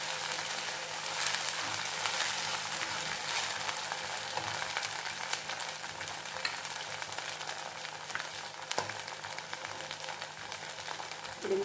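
Ginger and garlic frying in a pan for a roasted semiya pulav, a steady close sizzle and crackle with occasional stirring scrapes, no talking.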